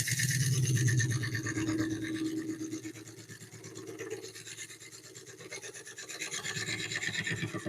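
Steady rasping scrub of a tool working a walnut bowl spinning on a woodturning lathe, continuous and close, louder at the start and end with a softer stretch in the middle, no talk.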